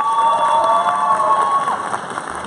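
Audience applauding and cheering in a studio for a comedy parody act, a dense continuous wash of clapping and crowd noise with steady tones underneath, no speech.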